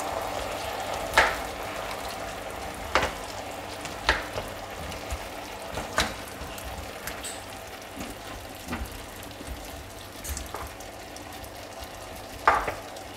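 Tartiflette ingredients sizzle steadily in a pan after dry white wine is added, with a continuous frying hiss and periodic scrapes and clinks of a utensil stirring through them.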